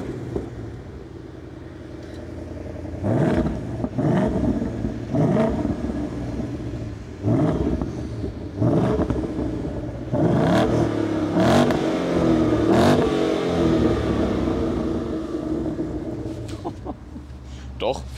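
Ford Mustang exhaust revving in repeated loud bursts, close and full-bodied, with deep rumble between throttle blips and a sustained rev near the end.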